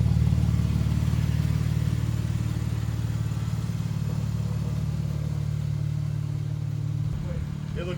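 A Genesis G80 car, lowered on its suspension, drives around the block with a low, steady engine hum and road rumble throughout, a faint clatter near the end.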